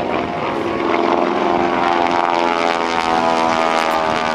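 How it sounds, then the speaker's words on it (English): A non-Super Stearman biplane's radial propeller engine drones loud and continuous through a square loop at the NAS Oceana airshow, a rich harmonic buzz with slight shifts in pitch as the aircraft pulls through the turns. "This is the non-Super Stearman square loop."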